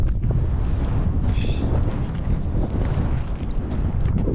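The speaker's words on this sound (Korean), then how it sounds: "바람 불고 시원하고 좋네" Strong wind blowing outdoors on a hilltop summit, a loud continuous roar buffeting the microphone with low rumbling gusts, close and steady throughout with no talk.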